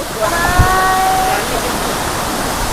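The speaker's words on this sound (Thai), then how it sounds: "มองไปที่น้ำตก" Huai Luang waterfall in Phu Chong-Na Yoi National Park sends up a constant, fairly loud roar of falling water, with a brief voice and a thin tonal sound over it near the start.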